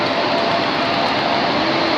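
A train stands or moves at a railway platform, giving off a loud, steady broadband rumble and roar with a faint tonal hum, continuous and close, with no voices.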